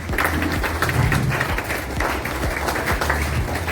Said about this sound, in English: A big round of applause for all the parents.